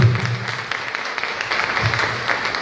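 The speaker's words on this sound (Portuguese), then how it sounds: "Vamos aplaudir o Senhor." Congregation applauding during a Catholic healing and deliverance Mass, a steady patter of many hands at moderate level with a low voice or hum faintly underneath.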